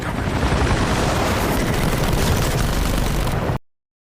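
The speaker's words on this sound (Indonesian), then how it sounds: "Mereka dihujani tembakan" Loud, dense gunfire rattles on without pause, heavy booms mixed into a continuous barrage, then cuts off abruptly.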